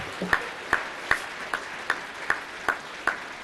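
Applause for Phil during Wayne Brittain's farewell speech to Carlton: a series of about nine crisp, evenly spaced claps at a steady unhurried beat, moderately quiet, with no talking over them.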